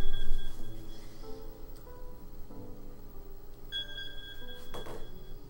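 A phone alarm frozen and stuck on, going off in a room: faint repeating electronic tones with short high beeps recurring over a low background, no talk heard.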